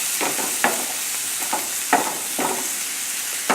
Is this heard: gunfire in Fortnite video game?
no